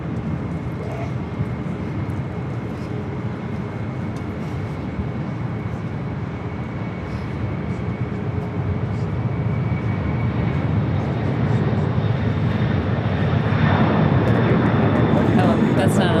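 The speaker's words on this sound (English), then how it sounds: "looks like a 767 to me" Boeing 767 cargo jet at LAX, a broad engine roar that builds gradually and grows louder toward the end, sustained throughout with no clear talk on top.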